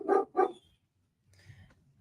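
A dog gives two quick, close barks, then makes quieter whining sounds a moment later, as neighbours arrive home.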